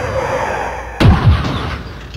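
A sudden loud boom of a bike blowing up cuts into a low ambient drone, followed by a rumbling low-pitched aftershock and a second thump about a quarter second later.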